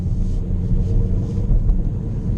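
A 2017 Chevrolet Sonic economy car accelerating, a low steady engine drone and road rumble heard from inside the cabin, loud and continuous with no talk.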